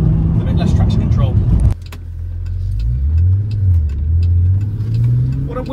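A VW Golf R32 drives down a country lane. A voice talks briefly at first, then the car's low engine drone carries on close by, rising and falling with the throttle.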